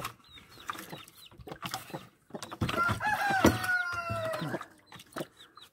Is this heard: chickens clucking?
yes